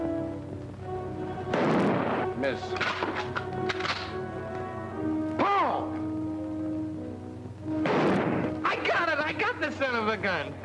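Aerial gunnery in an old Hollywood film: a soundtrack with bursts of machine-gun fire and thuds mixed with voices, music and other effects throughout.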